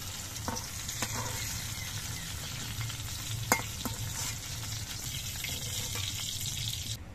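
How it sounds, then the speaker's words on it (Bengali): Eggplant slices frying in oil in a wok, giving a steady, moderately quiet sizzle that runs throughout, with a few light clicks and stirring knocks near the middle. "বেগুনগুলো নরম হয়ে ভাজা হয়ে গেছে, আমি বেগুনগুলো তুলে নিচ্ছি।"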